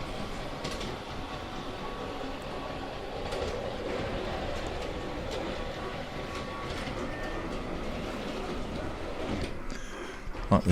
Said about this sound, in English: I've got to push the button to bring the loco around